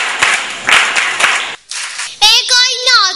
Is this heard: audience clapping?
yes